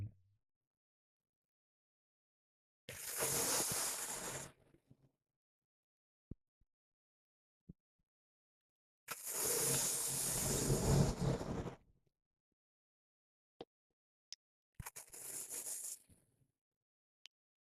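Sheetali cooling breathing exercise, three long audible breaths drawn in through the mouth with a soft airy rush, each lasting a few seconds and separated by quiet pauses with faint clicks, close and alone.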